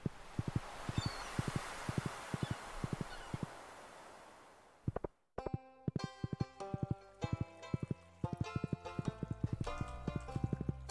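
Hooves of a small horse clip-clop in the farming video game Stardew Valley, a brisk run of sharp, evenly spaced footfalls over soft outdoor ambience, then continuing under bright game music.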